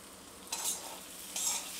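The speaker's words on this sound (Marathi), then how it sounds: "मिनिटभर मसाल्यामध्ये बघा बटाटा परतून घेतलेला आहे" Potato pieces fry in a spice masala in a kadhai over low heat, with a steady soft sizzle broken by two brief scraping stirs close by.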